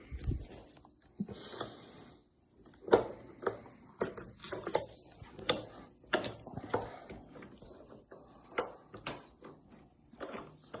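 An adjustable wrench works on car battery terminals, giving a run of metallic ratcheting clicks and clanks under intermittent nearby talk.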